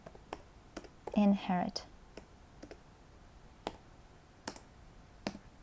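Scattered keyboard key clicks sound at uneven intervals, sharp and close, with a short spoken word partway through.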